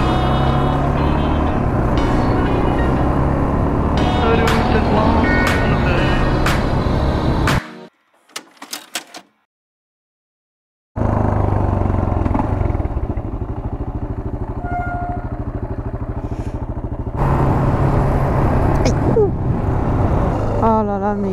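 A Yamaha XT 600 single-cylinder motorcycle drones steadily while riding, with heavy wind rush over the engine and a brief quiet break midway before the ride noise returns, loud and close.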